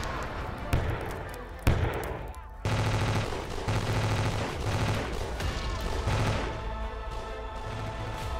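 Volleys of cannonballs fired in a Minecraft-style video game battle with tanks, heard as loud, close, repeated booming shots and rapid bursts over a busy, dense background, with voices underneath.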